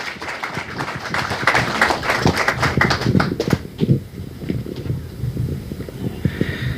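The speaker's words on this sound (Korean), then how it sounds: "박수 부탁드리겠습니다" An audience at a book launch event in Daegu claps, a dense burst of applause that gradually thins into scattered, uneven claps.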